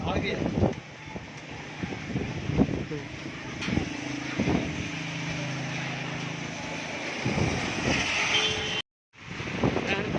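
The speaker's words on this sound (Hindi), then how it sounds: "अब बहुत तेज़ हवा और साथ बारिश, तूफ़ानी बारिश हो रही है।" Strong stormy wind with rain buffets the microphone in a constant rushing roar in a village in Bhakkar district, Punjab, with thuds and scattered voices underneath and a brief dropout near the end.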